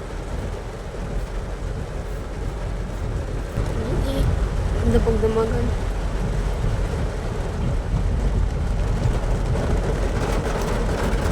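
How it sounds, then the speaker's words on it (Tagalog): Heavy rain falls during a storm as a dense, constant roar of broadband noise, loud and unbroken, while people talk over it. "Lakas pa ng ulan, oh."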